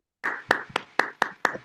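Participants in an online meeting clap to welcome the speaker, heard as about six separate, evenly spaced hand claps, close and somewhat compressed.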